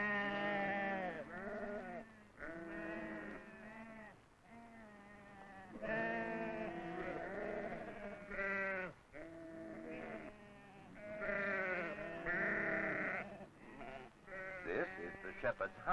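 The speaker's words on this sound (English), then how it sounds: "father marks all his sheep" Flock of sheep bleating repeatedly at a 1960s Spanish farm while a shepherd marks them, overlapping calls rising and falling close by, loud and continuous, with a voice speaking over parts of it.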